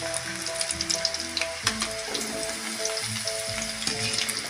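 Onion pakoda batter dropped into already-heated oil, giving a dense, continuous bubbling sizzle that runs the whole way through with steady tonal background music underneath.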